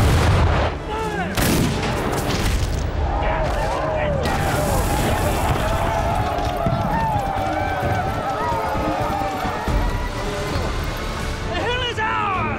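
Civil War cannon and rifle fire in a Gettysburg battle reenactment, heavy booming blasts and sharp gunshots early on, then continuing battle din with shouting voices and talk layered over it.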